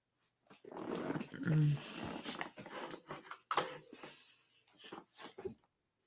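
A puppy growls, whimpers and gives a few small barks in uneven bursts, close and moderately quiet, with short pauses between the sounds.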